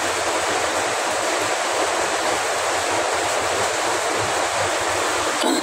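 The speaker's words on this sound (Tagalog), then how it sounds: "napakalakas ng ulan dito sa amin" Heavy rain pours down in a steady, dense roar of broadband noise that stays loud and unbroken throughout, with no voices.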